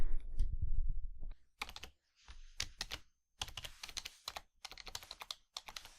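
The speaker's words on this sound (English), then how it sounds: "I'll actually move the microphone to the keyboard and I'll start typing." Typing on a Logitech K830 illuminated wireless keyboard with touchpad, close and crisp bursts of key clicks in quick irregular runs, preceded by a brief low handling thump.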